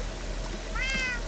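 A Minecraft cat gives a short, bright meow near the end of a steady low hum and faint background noise, one soft call heard up close.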